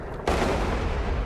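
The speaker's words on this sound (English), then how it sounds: "Shit just keeps exploding." A sudden loud explosive blast in Thief (2014) bursts in and rumbles on as a sustained roar, filling the short moment with dense noise.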